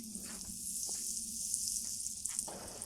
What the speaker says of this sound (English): I'm gonna throw down some butter right here